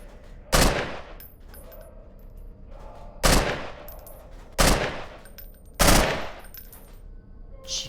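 Four loud, close bursts of gunfire in the Half-Life 2 Underhell mod, spaced a few seconds apart, each a sharp crack with a short rumbling tail over a quiet game background.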